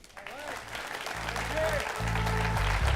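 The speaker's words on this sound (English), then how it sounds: "Let's clap loud enough so he can..." Audience applause at the close of a remote presentation, a steady wash of clapping that swells and stays loud throughout, with a host's voice speaking over it.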